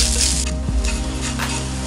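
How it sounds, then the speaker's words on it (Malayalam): A continuous sizzle of coconut frying brown in a pan, with occasional scrapes and clinks of stirring. "നമുക്കിത് നന്നായി ബ്രൗൺ കളർ പോലെ തേങ്ങ വറുത്തെടുക്കാം."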